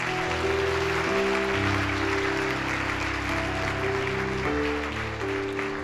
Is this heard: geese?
no